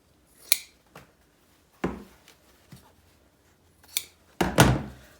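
Scissors cut through shirt seams in a few sharp, separate snips and thunks spaced irregularly, close by and otherwise quiet, with a longer rustling cut near the end.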